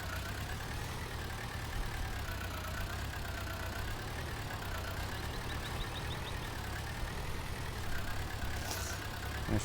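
A tractor engine in Farming Simulator 19 hums steadily at idle-to-working revs, a continuous mid-low drone with a faint whine, heard alone without talk throughout.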